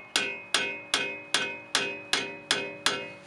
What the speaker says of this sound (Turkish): rot başımıza tekrar çekiçle vuracağım.